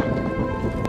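Heavy rain and strong wind during a mountain storm, a loud, dense wash of downpour and gusting noise battering close to a soaked camera, continuous and with no voices.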